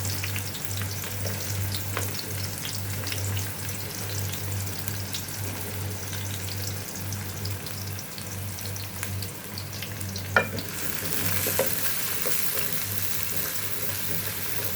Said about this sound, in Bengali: পেঁয়াজটা ভাজার সময় আমি লবণটা দিয়ে দিই